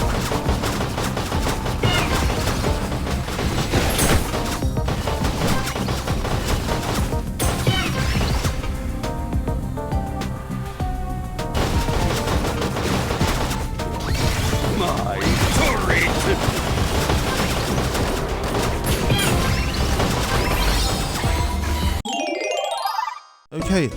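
Turret gunfire in the Cookie Run Ovensmash video game, rapid bursts and crashing impacts layered densely over game music, with a person talking throughout and an abrupt cutoff near the end.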